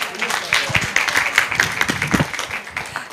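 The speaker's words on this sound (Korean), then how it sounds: "우리 박수로 격려해 주십시오" A church teachers' seminar audience applauds in a dense, steady patter of clapping that runs for the whole stretch, with a bit of murmured voice mixed underneath.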